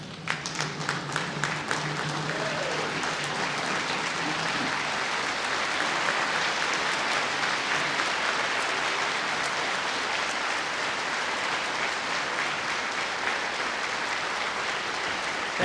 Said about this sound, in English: by standing and giving them a great ovation